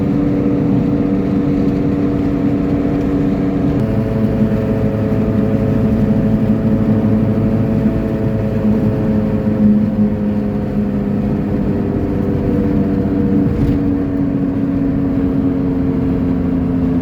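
A Mitsubishi Lancer drives along with a steady, loud engine drone and road rumble; its tones shift slightly as it goes, and no one speaks over it.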